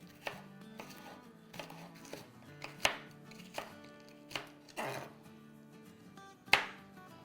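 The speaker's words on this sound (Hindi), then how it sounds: "चलो थोड़ा सा फ्रेश हरा धनिया काटेंगे। थोड़ी हरी मिर्चें काटेंगे।" A knife chops fresh coriander and green chilies on a cutting board in irregular, moderately quiet strokes, some sharper and louder than others, with no talking.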